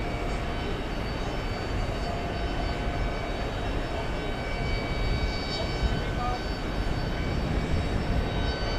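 Delta jet airliner taking off at JFK in New York, a steady, loud broadband engine roar sustained throughout with no pauses.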